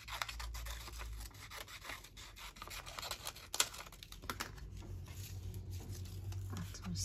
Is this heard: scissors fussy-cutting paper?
yes